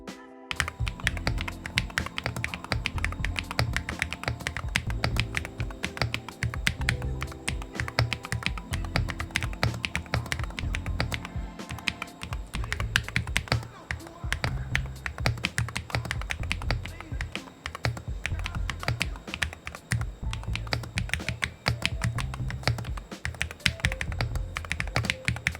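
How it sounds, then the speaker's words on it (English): Typing on a Sikakeyb HM 80 keyboard with a plastic case and Gateron Jade Emerald tactile switches: a dense, steady run of keystrokes lasts the whole stretch, loud and close, with no voice over it. "Let me give you a typing sound"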